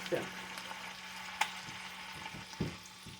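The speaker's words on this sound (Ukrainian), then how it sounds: "І будемо обжарювати їх зі всіх сторін." Stuffed chicken drumsticks browning in hot oil, a steady low sizzle with a few sharp spits and pops, close by and fairly quiet.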